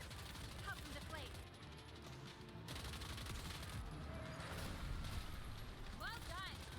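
Rapid bursts of gunfire and booming shots roll through a game trailer's action scene, dense and continuous, with a voice speaking over the din.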